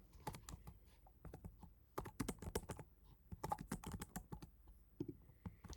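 Quiet, close typing on a computer keyboard: irregular bursts of soft key clicks with brief pauses between them, alone without talk.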